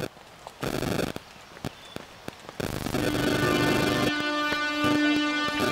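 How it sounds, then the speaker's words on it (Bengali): A train passes near Katiki Falls in the Araku Valley, first as scattered clatter and knocks, then building into a steady rumble with a sustained tonal whine or horn-like drone toward the end, fairly close. "ওই যে ট্রেনের শব্দ, হ্যাঁ ট্রেন"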